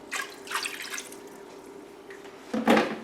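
Water is poured into a pressure cooker over corned beef, giving a few short splashing bursts that start and stop, with a louder pour near the end.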